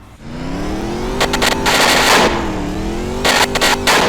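Game car engine in a Unity3D arcade racer, with side exhaust, revving hard against the handbrake for a 2-step launch; a steady loud drone rises and falls, broken by two bursts of crackling exhaust pops.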